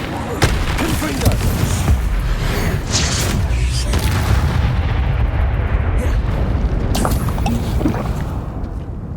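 The Confringo fire spell in Hogwarts Legacy goes off in a series of loud, booming explosive blasts with rumbling low-end bursts that crowd one after another, each trailing off into rolling noise.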